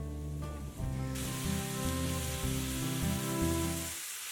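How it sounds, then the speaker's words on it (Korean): Tomato and egg stir-fry with oyster sauce sizzles steadily in a hot pan, with a hissing spray-like crackle throughout and no talk. "소스가 잘 섞이도록 한 번 더 볶아줍니다."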